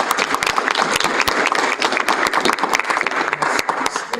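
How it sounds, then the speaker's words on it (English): Meeting attendees applaud a retiring library staff member, a dense, steady round of clapping with sharp individual claps standing out, fairly close and continuous throughout. "can we all get a round of applause for"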